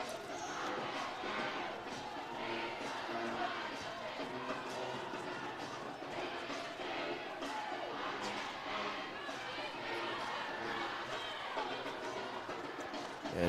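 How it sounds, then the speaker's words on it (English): Crowd at a high school varsity football game between Robinson Senators and Pine Bluff Zebras stirs into steady, dense cheering, with band sound and nearby voices mixed into the broad wash of noise. "Yeah, this crowd is coming to life again."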